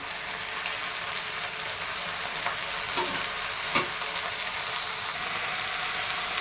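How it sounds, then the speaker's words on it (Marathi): Green amaranth leaves stir-fried in a pan, a steady broad sizzle throughout with a few sharper scraping stirs around the middle, close and moderately loud with no talking. "चांगलं परतून घ्यायचं भाजीला चांगलं परतलं ना खालीवर केलं ना"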